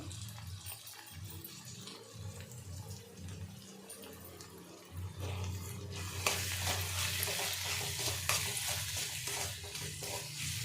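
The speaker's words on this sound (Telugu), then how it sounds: "అల్లం పేస్ట్ మగ్గిపోయింది ఇప్పుడు టమాటోస్ని దీంట్లో వేసేద్దాం" Tomatoes frying in a pan with ginger paste for a chicken curry, a steady loud sizzle that swells midway, with stirring and scraping on top and no voices.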